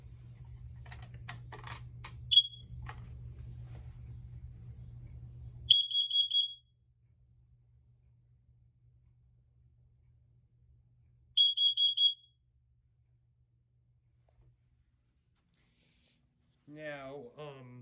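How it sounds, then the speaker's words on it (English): A First Alert plug-in smoke alarm gives short, piercing high-pitched beeps, three separate bursts spaced several seconds apart, over a low hum and some clicking early on, with a voice briefly at the end. "This one is a first alert plug-in alarm."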